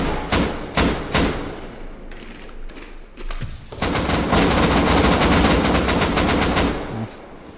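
Gunfire in the video game Rust comes as sharp single shots and short bursts, then a dense, sustained rattle of rapid automatic fire, loud and close.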